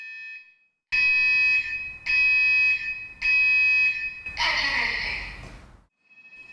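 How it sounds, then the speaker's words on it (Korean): A household fire alarm tested during a simulated house fire sounds in loud, piercing repeated beeps, three long tones followed by a harsher burst mixed with crackling fire noise, with no talk. "시뻘건 불길 속 검은 연기가 경보기에 닿자 10초 만에 경보음이 사방에 울려"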